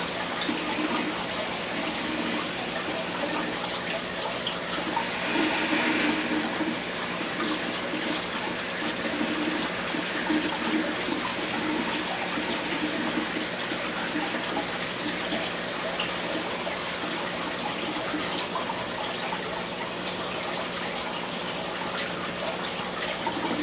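Water rushes steadily through a running aquarium water vacuum, a constant splashing flow with a low hum beneath it.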